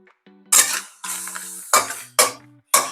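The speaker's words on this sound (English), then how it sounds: "So I'm just going to keep mixing this up." Chicken stir-fried in a single wok on a stovetop, with five distinct bursts of scraping, clattering stirring and brief sizzle separated by short quiet gaps, close and fairly loud.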